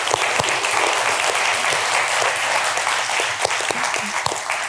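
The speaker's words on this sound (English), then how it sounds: "A big round of applause," An audience at the Asia Institute 25th anniversary event at the Sidney Myer Asia Centre claps steadily and loudly in dense, sustained applause throughout.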